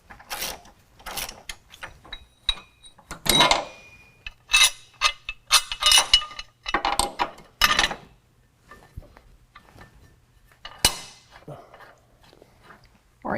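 Work under a 2019 Chevy 1500 crew cab: sharp metallic ratcheting and clanking in bursts with pauses, close and fairly loud, as a body mount bolt is loosened and pulled out.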